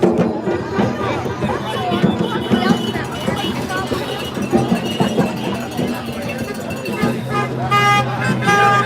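At a Freedom Convoy rally in Victoria, BC, car horns toot repeatedly among street traffic and crowd chatter, with a person talking over the noisy outdoor scene and a longer steady honk near the end.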